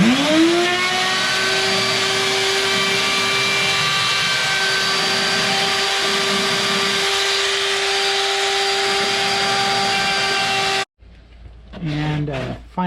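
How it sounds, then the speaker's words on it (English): A power router edges wooden pieces for a VW Bus camper cabinet, a loud, steady, high-pitched whine that runs for about eleven seconds, then cuts off and a brief voice follows. "So I'm also going to put a routered edge on these just to kind of smooth off this rough edge"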